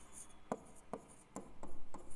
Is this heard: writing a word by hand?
yes